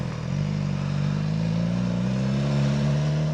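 A BMW S1000XR motorcycle engine pulls up steadily and loudly, its low harmonic drone rising slightly in pitch as it accelerates close by, with no voices over it.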